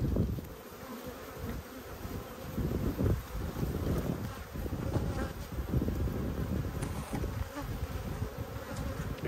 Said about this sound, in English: we've got a few bees floating around my head.